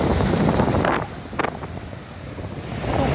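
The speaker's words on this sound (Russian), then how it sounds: "я не знаю, слышала ли вам, какой ветер у нас, но он теплый." Steady warm wind rushing against the microphone, a broad roar that dips briefly in the middle before swelling again.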